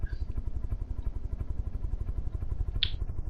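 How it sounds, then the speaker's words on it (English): Fast helicopter-like airship engines in the game From the Depths, a continuous rapid low throbbing chop with a steady rhythm, loud and close, with a brief high click near the end. "Very fast chopper."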